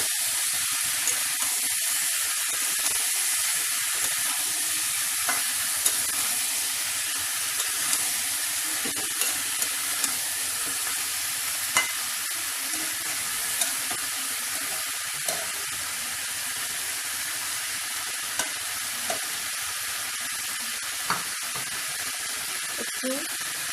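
Boiled chickpeas fry in a pan for a pumpkin curry, a continuous soft hiss and sizzle with occasional light clicks of stirring, steady and close over nearly half a minute.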